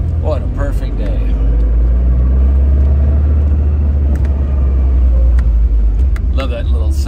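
A 1971 Fiat 124 Sport Spider with a five-speed gearbox drives on an open road, its engine giving a steady, loud low rumble with road noise throughout, heard from inside the car while a person talks briefly over it.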